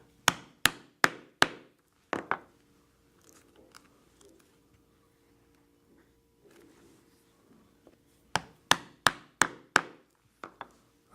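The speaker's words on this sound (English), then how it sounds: "I will punch all the way through all of the thicknesses." Sharp, close punching strikes driving through several layers of leather for a cross body purse, a quick run of four blows, scattered single hits and soft handling, then another rapid burst of six or seven.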